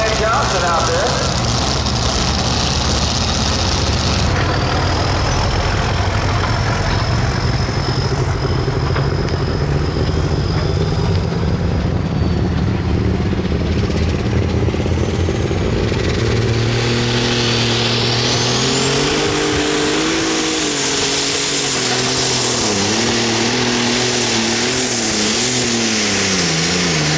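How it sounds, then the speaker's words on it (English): A pulling tractor at a truck and tractor pull at the Seneca County Fair in Tiffin, Ohio roars at full throttle, a loud sustained engine with rising pitch, heard over an announcer's commentary across a large outdoor arena. "Tractor."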